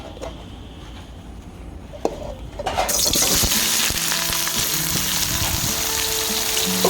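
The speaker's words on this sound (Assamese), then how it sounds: "পিঁয়াজখিনি লগতে আছে, কোমোৰাৰ লগত একেলগে ভাজিছোঁ" Pumpkin and onion drop into hot oil together, and a quiet kitchen gives way to a sudden loud, continuous frying sizzle, with scraping stir noises close by.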